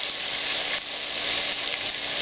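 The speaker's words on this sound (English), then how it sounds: "It's frying." Meatballs sizzle and crackle in a hot frying pan, a steady dense hiss of oil that stays close and continuous throughout, with no voices.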